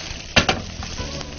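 Eggplant sizzles in oil in a tilted wok while it is pushed and stirred, a soft frying hiss broken by a couple of sharp scraping clacks from the utensil near the start.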